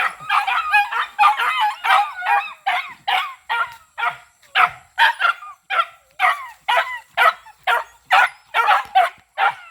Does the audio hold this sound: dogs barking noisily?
yes